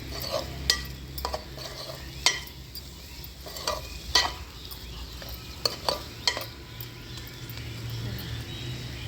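Masala chicken fries in a pan on a wood-fired stove, with a spatula clinking and scraping in irregular strokes over a constant close sizzle and a low rumble from the fire.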